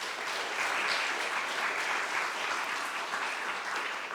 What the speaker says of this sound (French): que je vous invite à applaudir.